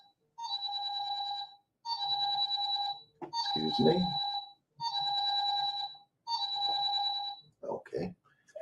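A mobile phone rings with a repeated electronic tone in five steady bursts, loud and close, interrupting a spoken sermon; someone briefly speaks over it near the middle and end.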